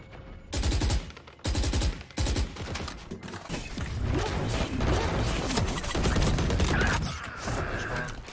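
An AK rifle fires in a competitive shooter game, starting with two short automatic bursts and moving into sustained rapid fire with clattering impacts. The shots are loud and close.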